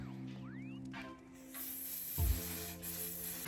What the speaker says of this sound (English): I would go in with my setting spray and just set my lip liner.